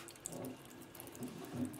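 Water pours heavily over an Oppo A3 phone, a close, continuous splashing stream with soft surges and a few drips.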